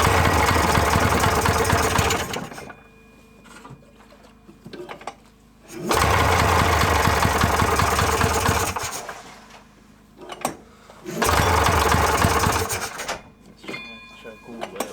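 A small engine runs with the choke on, a busy, steady mechanical chatter in several long bursts broken by near-silent pauses as it cuts out and restarts.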